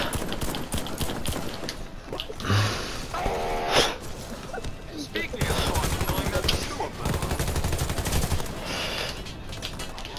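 Rapid video game gunfire from a multiplayer shooter, dense bursts of shots alongside game sound effects and music, with a person talking over the action.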